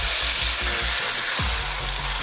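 Steady, loud sizzling of chicken pieces frying in hot oil, a dense crackling hiss with a few low bumps as pieces are moved.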